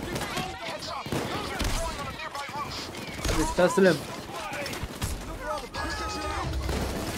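Payday 2 gunfire, heard during a Reservoir Dogs heist, comes as dense, uneven volleys of shots, some louder and closer bursts in the middle, while a player keeps talking over the fighting.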